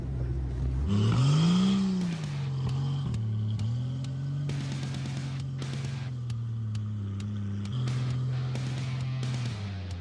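A car drifting across slick, icy, snow-covered ground in the desert, its engine droning close by, rising in pitch early on and then holding a steady hum, with scattered bursts of scraping noise.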